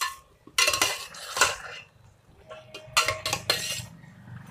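Yogurt gravy for chicken korma stirred in a pan, loud metal spoon scrapes and clanks against the pan in irregular bursts separated by quieter gaps, with no voices.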